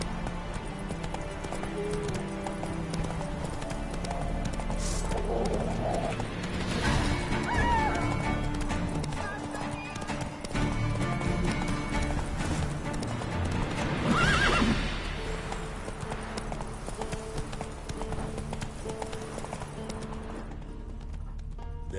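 Roach the horse in a video game trots with steady rhythmic hoof clip-clops and gives loud neighs and whinnies, set against a dense game soundscape of music and effects.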